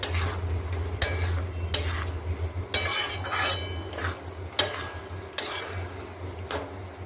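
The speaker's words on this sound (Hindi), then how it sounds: "और इसे अच्छे तरीके से मिक्स करूंगी" A spoon scrapes and clatters in bursts as a cooking mixture is stirred in a kadhai, with a faint sizzle beneath and low background hum between strokes.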